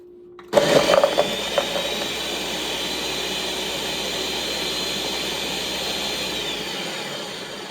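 A blender making a chocolate strawberry smoothie roars to life and runs steadily at high speed, loud and close, with a few clunks from ingredients early on.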